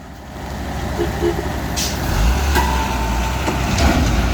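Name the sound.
trailer truck engine revving while stuck on an incline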